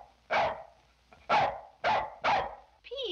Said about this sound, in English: It's a cute little dog.